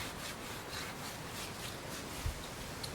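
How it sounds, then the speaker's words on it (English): Barbecue grill grates being scrubbed clean give a quiet, close, rhythmic rubbing and scraping, with repeated back-and-forth strokes and a small knock near the end. "I'm going to clean the top and the bottom of both of my grates"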